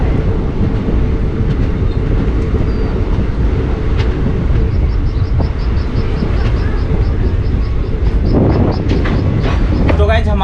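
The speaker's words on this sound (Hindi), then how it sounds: "तो चलिए आपको मैं दिखाता हूँ इस ट्रेन के यहाँ से डिपार्चर।" Shaktipunj Express pulling away from Renukoot station, a loud continuous rumble of rolling wagons with rhythmic wheel clacks and a rising squeal near the end, heard close from aboard.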